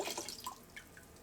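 Water trickling and dripping as it drains out of a DIY egg washer bucket, a faint close sequence of small drips and splashes.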